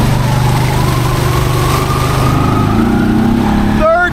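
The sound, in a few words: Honda Pioneer 500 UTV engine driving in low gear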